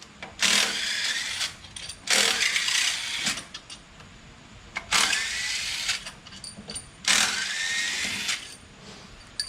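Ratchet wrench backing out the 10mm mounting bolts of an A/C compressor, four bursts of rapid clicking ratchet strokes separated by short pauses, close and fairly loud with no talking.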